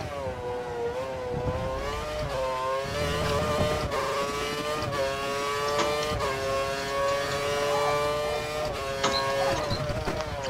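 An overheating F1 car engine screams through a lap at Yas Marina in a racing game, its high harmonic whine holding steady with small pitch shifts and gear changes, loud and continuous with no talk.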